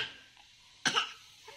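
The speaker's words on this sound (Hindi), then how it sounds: "उन्हें खांसी भी हो रही" A single short cough breaks through a quiet room, loud and close, with faint background noise before and after.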